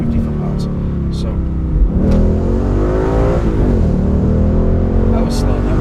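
A 2016 Ford Mustang GT convertible V8 pulls hard, its engine note rising, then briefly dips at an upshift before climbing again, loud and steady from inside the car with no talk.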